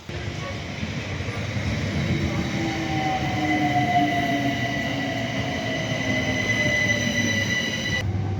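A train rumbles steadily along the rails in London for several seconds, with a thin metallic wheel squeal drifting over the constant low roar.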